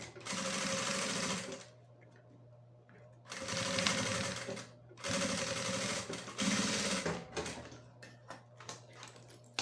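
A sewing machine stitches the final seam of a shoulder bag's fabric lining at a 3.5 stitch length, running in four close, loud bursts of rapid needle clatter separated by short pauses.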